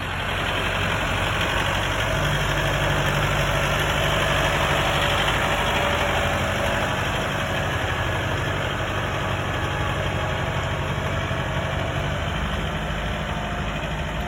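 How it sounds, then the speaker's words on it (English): A Kubota 70 hp four-wheel-drive tractor idles steadily, its engine a constant low rumble throughout with no talking. "This is a short video on the Kubota 70 horse four-wheel drive tractor."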